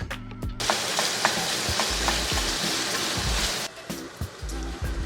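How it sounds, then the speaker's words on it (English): Steady, dense sizzling of bacon frying in a hot pan, loud and close, with occasional crackles and pops throughout; no voices. "Bring your bacon over to the frying pan and,"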